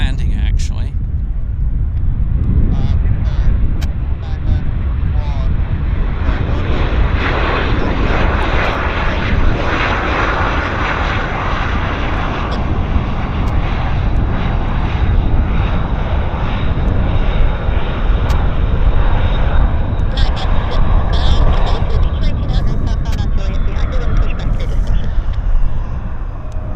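Plane landing at Vancouver Airport YVR, a broad, steady engine roar heard from a distance that carries on throughout, with a person talking over it.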